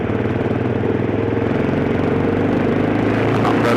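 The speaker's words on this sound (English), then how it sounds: "The exhaust is way too loud." A Hero xPulse motorcycle with a loud free-flow exhaust and rally kit drones steadily through a city ride, its engine note rumbling close and constant with no voices over it.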